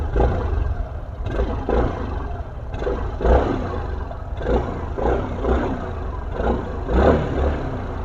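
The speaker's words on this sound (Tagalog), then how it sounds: "Stock exhaust, sound check." A stock-exhaust Suzuki Burgman EX scooter is revved repeatedly at close range, its engine note swelling and falling in about six regular throttle blips over a steady idle, with no voices.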